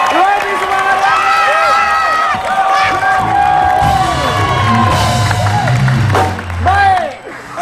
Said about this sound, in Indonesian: Boleh kasih tepuk tangan lagi dong.